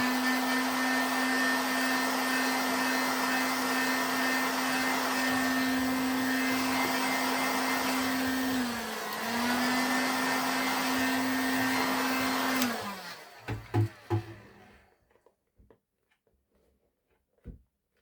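A heat gun blows steadily to warm leather and activate glue, a loud, even whirring hiss that dips briefly midway. It then shuts off, leaving a few handling knocks.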